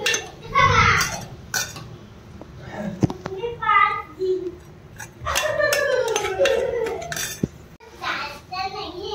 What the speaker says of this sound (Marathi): आता याला मी फ्लेमवर ठेवते आणि मग याच्यामध्ये डाळ टाकते